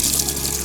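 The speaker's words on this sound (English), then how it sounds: "Drain the water" Water from blanched peas drains out in a steady, close rushing pour, like a tap gushing into a sink, continuous for the whole short moment with no talk.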